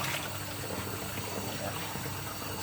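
Water runs steadily from a tap while dishes are rinsed, a continuous broad gushing hiss with faint clinks and a voice partly audible underneath.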